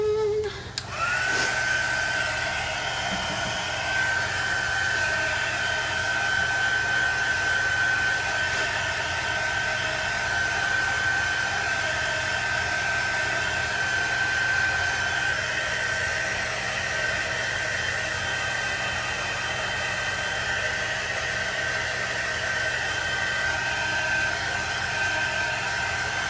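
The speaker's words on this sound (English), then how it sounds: "get my heat gun out again." A heat gun blows hot air during custom chalk sign making, a steady, unbroken whooshing hiss with a thin whine that runs close and loud for the full length, with no talking.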